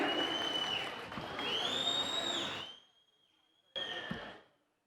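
An audience at a political gathering claps to welcome politician K.Y. Nanjegowda: dense, loud applause with a ringing tone over it fades out, then a short final burst of clapping.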